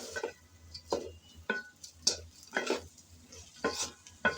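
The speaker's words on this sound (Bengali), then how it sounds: "এখন সবগুলো মশলার সাথে চাল ডাল ভালোভাবে নেড়ে চেড়ে ভেজে" Rice and lentils with spices are stirred and fried in a pot, a series of rhythmic scraping strokes and utensil clinks over a low sizzle, with no voices.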